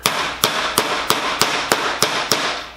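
A hammer beats the edge of a sheet of metal down over a forming buck, shaping it around a radius: eight sharp, ringing metallic blows land at a steady, even rhythm, close and loud, with no talking.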